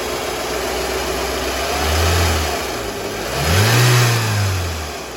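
An idling 2000 Toyota RAV4 engine revs up twice, each rise swelling and then falling back to a low rumble, close and loud.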